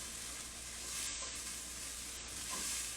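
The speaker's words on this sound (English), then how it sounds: "All right, I'm gonna dump in my onions now." Diced onions hitting a very hot pan with a little olive oil, giving a steady broadband sizzle that swells slightly midway and again near the end, close and continuous with no talking.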